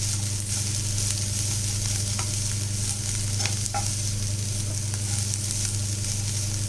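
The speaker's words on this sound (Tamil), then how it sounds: "கேரட்டு தேங்காய் துருவல் வெங்காயம் கொத்தமல்லி எல்லாமே போட்டு நல்லா நம்ம வதக்கிட்டோம்" Carrot, grated coconut, onion and coriander sauté in a pan with a steady, continuous sizzle and a few soft stirring scrapes, close and even throughout with no talking.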